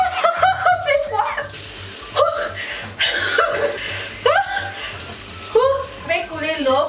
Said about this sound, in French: Je vais couler l'eau pour quelques minutes pour savoir laquelle tient mieux